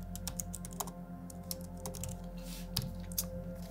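Quick, irregular keystrokes tap on a computer keyboard as a comment is typed, close and fairly quiet against a low steady hum, with no voices.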